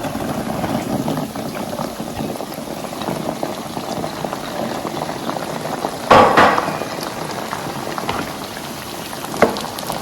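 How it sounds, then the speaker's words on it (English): Dense crackling and sizzling of pepper popping in hot oil with half-fried ginger for Ghanaian shito chilli sauce, a continuous fizz with a few louder pops bursting out near the end. "The way the pepper is popping in the oil."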